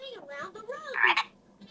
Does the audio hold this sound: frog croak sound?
yes